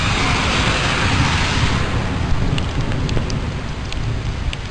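Heavy rain pours outdoors in a thunderstorm, a loud, dense, continuous wash of drops close by with low rumbling underneath and no talking.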